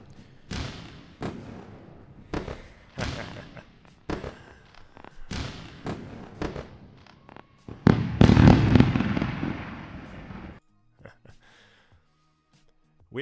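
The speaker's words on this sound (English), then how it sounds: "That's deserving fireworks." A fireworks sound effect: a rapid run of sharp booms and crackling bursts, loud and close, building to a dense barrage before cutting off into near silence.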